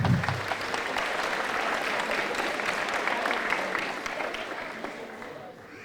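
Audience applause at an 8th grade promotion ceremony, sustained clapping from a large crowd in a hall that holds steady and then tapers off near the end.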